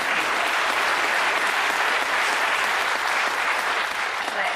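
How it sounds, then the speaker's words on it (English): Sustained round of applause from a town hall audience, steady and dense clapping throughout, with faint crowd murmur underneath. "her a round of applause"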